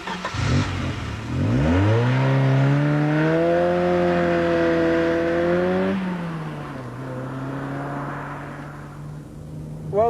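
A Ford Sierra RS Cosworth turbo engine with a heavy-duty five-speed Borg-Warner gearbox accelerates hard. A loud, close engine note climbs steadily in pitch, holds through a long pull, then dips and settles at a lower steady tone.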